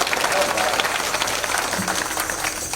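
Audience clapping at a Marathi kirtan during a Tukaram Beej week programme in Ghogargaon, a steady dense patter of many hands filling the hall, sustained and fairly loud with crowd murmur throughout.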